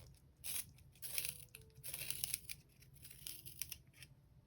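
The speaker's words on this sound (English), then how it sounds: "just sharpen this pencil up real quick." A Tombow 8900 pencil being sharpened, giving several scraping, crunchy bursts of blade on wood and graphite in quick succession, close and fairly quiet.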